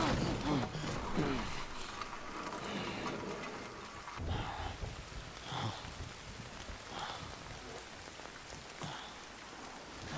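Heavy rain in the video game Death Stranding, a dense constant hiss of drops with occasional louder splashes and soft muffled voices underneath.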